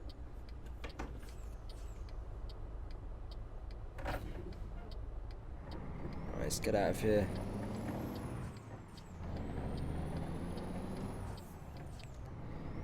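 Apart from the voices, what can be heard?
diesel truck driving in video game American Truck Simulator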